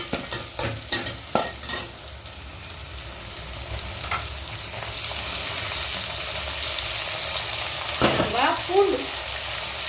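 Onions frying in a pan for fish curry, with tomatoes tipped in: a few sharp stirring clatters at the start, then a steady close sizzle that swells after a later stir.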